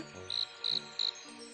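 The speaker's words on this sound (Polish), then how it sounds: "Świerszcze?" Three short, bright cricket chirps sound in a Scooby-Doo video game, evenly spaced over a soft, quiet background tone with no speech.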